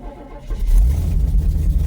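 A carbureted Chevrolet S10 engine catches and settles into a loud, steady high idle, close by and running alone.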